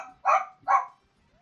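A pet dog gives two loud barks in quick succession at close range, followed by quiet.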